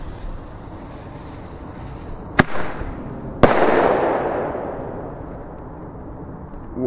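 Two sharp bangs from Thunder Kong Max New Year's firecrackers, a quick pair about a second apart, the second louder and followed by a rumbling echo that fades slowly outdoors.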